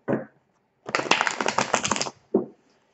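Well-worn tarot deck being shuffled, a quick burst of riffling card flutter lasting over a second, with shorter soft card taps before and after, close and moderately loud.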